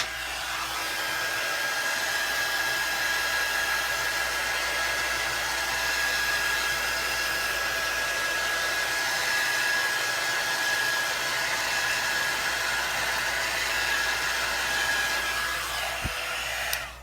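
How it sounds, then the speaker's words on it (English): A heat gun blows steadily for about sixteen seconds, drying Distress Ink on a craft mat. The airy roar with a thin whine stays close and even, then cuts off near the end. "when you're using your heat gun on your craft mat, you don't want to do it for long"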